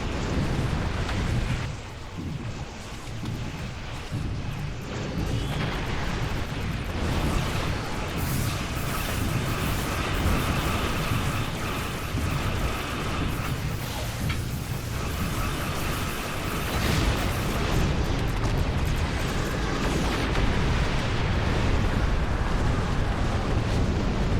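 Dense, continuous rumbling explosions and weapons fire from starships battling Alachi vessels near a rift in Star Trek Online roar steadily and loudly throughout, with heavy low booms layered over a constant wash of noise.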